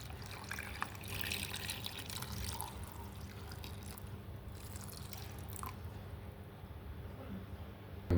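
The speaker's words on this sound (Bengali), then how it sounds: "সাথে দিলাম পানি" Water pours into a pot holding coriander leaves and three home-grown green chilies, a soft, faint trickle and dribble that runs steadily under a quiet room background.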